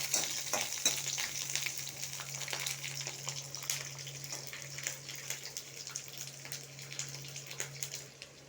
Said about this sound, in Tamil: வெங்காயம், நல்லா வதக்கலாம்.